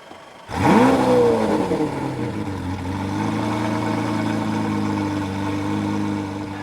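A purple one-of-one Huber Designs Lamborghini fires up with a sharp, loud rev that spikes and drops, then settles into a steady, throbbing idle close by.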